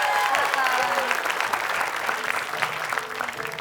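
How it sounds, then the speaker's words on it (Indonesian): Studio audience applauding a guest star on an Indonesian TV show, dense sustained clapping throughout while voices talk over it. "Tepuk tangan buat bintang tamu kita"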